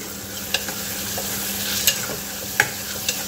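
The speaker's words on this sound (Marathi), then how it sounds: "आता हे टोमॅटो घातल्यावर आपल्याला परतून घ्यायचं आहे" Tomatoes are sautéed for quick masala khichdi, a steady close sizzle broken by a few light taps and scrapes of the spatula against the pan, with no voices.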